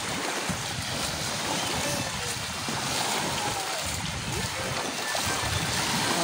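Waves washing onto the shore at Magbagacay beach, Saint Bernard, Southern Leyte, a continuous broadband surf roar mixed with wind buffeting the microphone.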